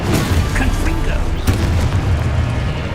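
Confringo fire spell bursting in Hogwarts Legacy, a dense booming blast with a sharp crack near the middle, loud and close over continuous game rumble, with a voice talking alongside.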